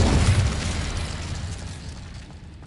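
A fiery Incendio spell blast in Hogwarts Legacy, a booming burst that starts loud and decays over a couple of seconds into a fading rumble, with no voices.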